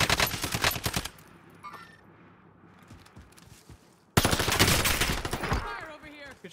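Rapid automatic gunfire from the video game Warzone rattles in dense bursts, loud and close, pauses for a quieter stretch, then erupts again in sustained fire.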